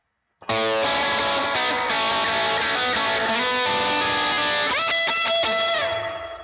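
A distorted electric guitar plays a fluid solo line with bends and sustained notes, loud and continuous, fading slightly at the end.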